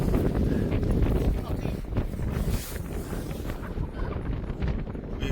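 Strong gusting wind roars across the microphone on a wild, windy day in Llansannan, North Wales, a loud, continuous buffeting rumble that fills the whole clip.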